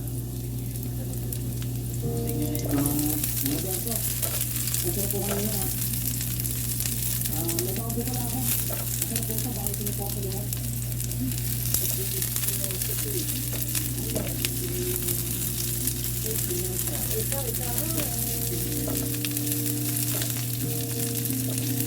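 Onion sizzling steadily in a hot pan alongside golden-browned garlic for a pork and Baguio bean adobo, a constant bright frying hiss with occasional stirring scrapes and a voice talking over it.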